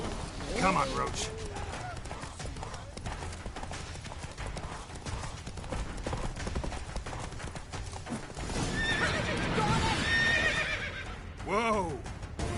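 Roach the horse in Witcher 3, with galloping hoofbeats running steadily throughout and loud neighs and whinnies near the start and end, under game music and voices.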